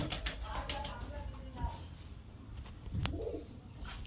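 Murshidabadi Giribaz pigeons, males and females gathered for delivery, coo in a low, brief burst amid clattery handling noises and nearby talking.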